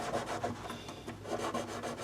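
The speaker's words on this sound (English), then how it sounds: "I'm taking 1000 grit sandpaper that I have folded over, and I got my fingerboard guard, and I'm just kind of polishing on the frets" Folded 1000 grit sandpaper rubbing over the frets of an Ovation Applause guitar behind a fingerboard guard, a soft rhythmic back-and-forth rasp repeating steadily and close, with no voices.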